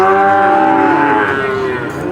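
Cattle lowing at a livestock market where young beef cattle are sold for fattening, one long, loud moo held close by for about two seconds with no talk over it.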